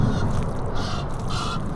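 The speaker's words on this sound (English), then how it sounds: "Can you hear those geese flying over?" Geese honk while flying overhead above a riverside foreshore, a few distant calls rising over steady background wash, with no talk.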